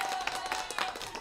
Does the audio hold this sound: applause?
yes